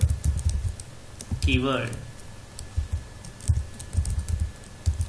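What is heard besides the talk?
typing a project name on a computer keyboard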